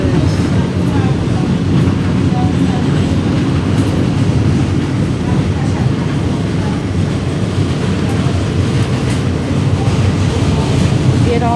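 Inside a Coney Island–bound F local subway train on the move, a loud, steady rumble and roar of wheels and car body fills the ride continuously, with faint rattles and clicks throughout.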